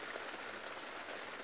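Steady rain falling around an open vehicle on a safari drive in a game reserve, a soft continuous hiss of drops hitting surfaces, fairly faint and even throughout, with no voices.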